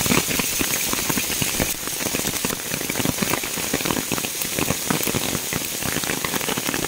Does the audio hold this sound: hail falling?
yes